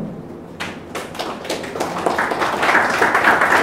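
An audience at a conference ceremony honouring students breaks into applause, starting with a few sharp scattered claps that quickly thicken into a loud, sustained round of clapping.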